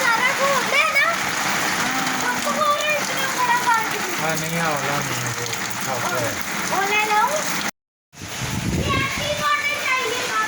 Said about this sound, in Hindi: बच्चे सोने लगे थे और अभी इनको बस ओलों की आवाज़ की वजह से यहीं पे खड़े हो गए हैं।